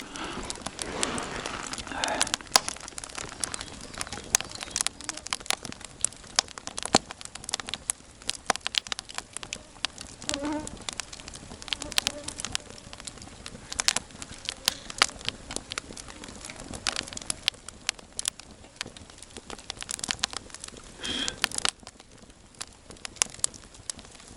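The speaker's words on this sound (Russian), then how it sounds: "Елка трещит." Burning spruce wood crackles and pops in an open campfire by a taiga river at evening, with irregular sharp snaps scattered over a steady low hiss throughout.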